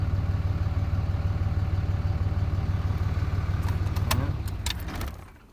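Dodge Cummins diesel truck idles steadily after an oil change, a loud, even low rumble with a faint metallic rattle near the end as the engine winds down and goes quiet.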